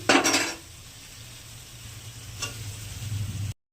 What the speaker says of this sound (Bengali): পটলগুলো দিয়ে দিচ্ছি।